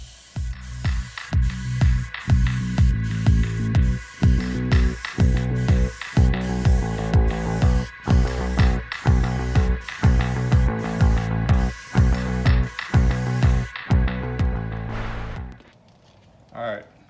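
A spray gun laying a gold pearl coat over a dip base on a car, firing about a dozen loud, hissing bursts in a steady rhythm of passes with brief gaps, then falling silent.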